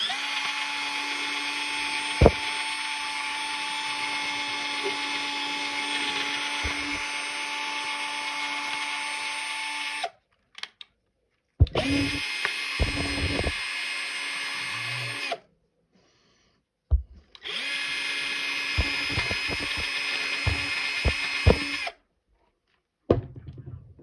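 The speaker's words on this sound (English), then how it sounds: "We're about to get that out with this wire brush." Loud whirring power tool spinning a wire brush to scrub rust from a new nitro engine in three long bursts, with short pauses and rattling scrapes between runs.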